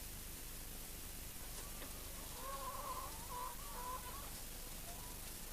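Chickens clucking in crowded cages, a few faint, brief clucks and murmurs rising halfway through over a steady hiss of background noise.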